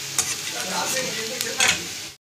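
Water lily flower fritters deep-frying in hot oil in a kadai give a dense, continuous sizzle close up, with a few brighter bursts as they are stirred, until the sound cuts off abruptly.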